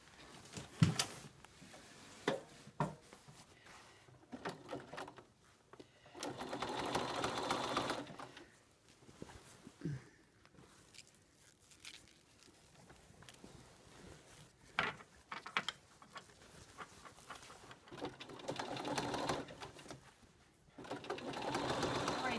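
A sewing machine set to a 1.6-width zigzag stitch runs in several bursts while joining quilt backing, its rapid mechanical whir starting and stopping, with quiet handling noises in the pauses.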